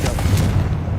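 Hogwarts Legacy's Confringo fire spell lets out a brief, close explosive boom with heavy low rumble and a quick crackling flare, sustained loudly for about a second.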